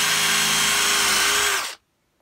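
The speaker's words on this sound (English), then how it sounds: "It's nice and vertical, handheld, power tool." A handheld power drill boring vertically into wood whirs loudly and steadily for over a second, then cuts off abruptly into silence.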